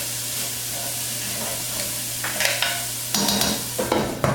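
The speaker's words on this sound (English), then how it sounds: "we're just going to saute this for 2 to 3 minutes, just until it gets slightly soft" Chopped onion sautés in a pan for a chicken and broccoli casserole, a steady close sizzle with bursts of stirring and scraping growing louder toward the end.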